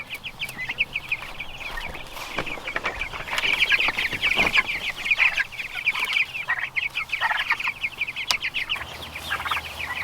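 Chickens cluck continuously nearby in a busy flock, overlapping calls with bursts of sharper squawks and soft outdoor background noise.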